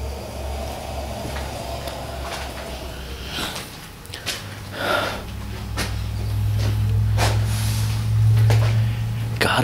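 Sniffing sounds come through on a recorder: several short, breathy bursts spread over a low, rumbling hum that grows louder toward the end.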